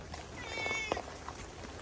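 Outdoor cat on Enoshima gives a short, thin meow amid light background noise, close by, followed by faint rustling.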